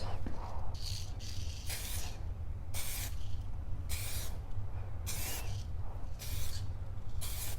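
Spray coating is applied to a car headlight in a series of short hissing bursts, about eight of them in an uneven rhythm, heard up close and fairly faint over a low background hum.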